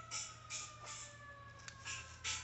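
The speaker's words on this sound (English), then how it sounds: "So you hear the siren again." An emergency vehicle siren on a road, faint and distant, wailing in a steady tone beneath low background hum.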